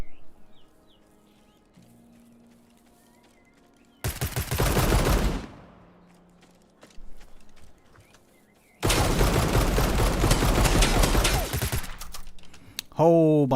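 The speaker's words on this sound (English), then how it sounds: "He had an LMG too." Two long bursts of LMG machine gun fire in the zombie survival game HumanitZ, dense rapid rattling with quiet ambience between, the second burst longer and louder.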